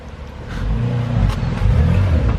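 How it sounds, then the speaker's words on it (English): A 2007 Porsche 911 Turbo rolls up nearby with a low, rising engine rumble and whir that swells steadily over a couple of seconds. "I heard a pretty cool car rolling up"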